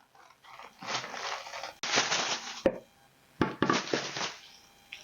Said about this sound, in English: now I need to roll out my graham crackers